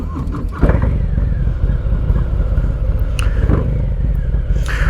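Harley-Davidson Sport Glide motorcycle riding along a beach coastline on a winter day, a steady close engine rumble with wind noise that swells with throttle near the start and holds without speech.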